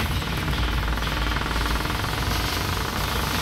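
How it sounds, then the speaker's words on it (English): A game controller vibrates during play, producing a dense, steady rattling buzz that fills the whole stretch at an even level, with no talk over it. "That's my controller making the vibration sound."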